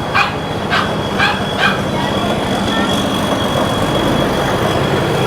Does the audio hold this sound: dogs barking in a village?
yes